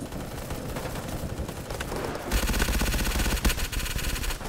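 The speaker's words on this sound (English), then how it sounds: "Y'all stop shooting each other." Dense automatic gunfire in the Roblox shooter Blackhawk Rescue Mission 5 during a 25-versus-25 match, continuous rattling bursts that grow louder and heavier halfway through, with sharp close shots standing out.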